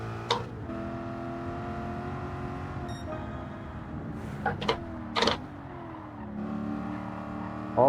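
Race cars in Gran Turismo 7 whine and rise through the gears, several engines droning at once with brief sharper bursts as they pass, steady and fairly loud with no talk.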